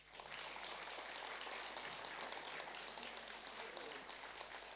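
Faint, distant applause from a theatre audience at a Silesian musical performance honouring grandparents, a steady even patter of many hands that fills the whole stretch without clear breaks.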